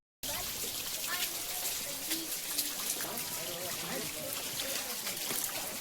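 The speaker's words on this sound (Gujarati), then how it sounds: "અહીંયાથી પાણી જે પસાર થઈ રહ્યું છે" Rainwater streams past near Girnar during a monsoon downpour, a steady close trickling and splashing rush that fills the whole stretch evenly at low level.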